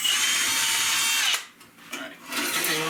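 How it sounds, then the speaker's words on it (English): Power drill boring out a rivet on a crashed aluminum boat ladder, a loud steady whine for over a second, a brief dip as the bit pauses, then a second sustained drilling burst close by. "So now I'll drill out this rivet right here and we'll get this plate off here."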